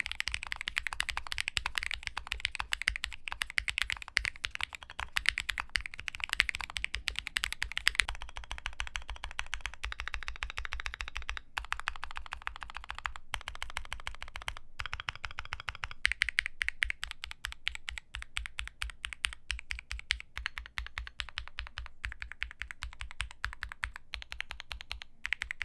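Rapid, continuous typing on a Vulcan Maja v2 Alice-layout mechanical keyboard, close and crisp, with clacky keystrokes in uneven bursts and brief pauses throughout.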